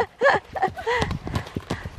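Horse hooves clip-clopping at a walk on a countryside ride in England, an uneven run of close hoof beats mixed with people's excited voices.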